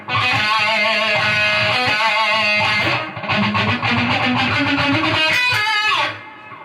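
Distorted electric guitar playing a section of a solo, loud fast runs of notes with bends, vibrato and a slide down, close and saturated, fading at the end.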